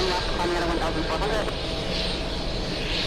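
Airbus A380 jet taking off at JFK, a broad, steady roar of engines with a high whine, while a voice talks over it.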